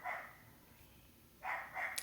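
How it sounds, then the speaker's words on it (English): A pet dog named Lola barks indoors, two short bursts separated by a pause, fairly faint and slightly distant with no talking over them. "Miss Lola is barking."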